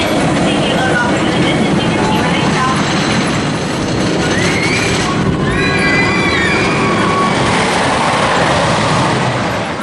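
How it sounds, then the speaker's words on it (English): An amusement park train ride at Kings Island rolls steadily along its track, a continuous low rumble and clatter with faint squeals above it, while people talk in the background throughout. "Pretty fast for a train ride, right?"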